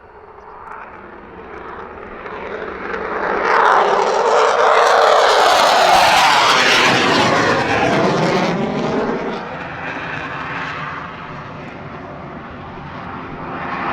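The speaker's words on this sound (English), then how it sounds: "Okay, takeoff time." A military jet takes off at RAF Lakenheath, its engine roar swelling to a loud sustained blast at the peak before easing into a fading rumble as it passes into the distance.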